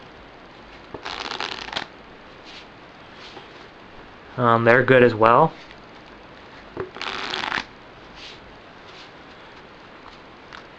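Two quick bursts of a Bicycle 125th Anniversary Edition playing card deck riffled on a table, one early and one later, with a short spoken remark between them.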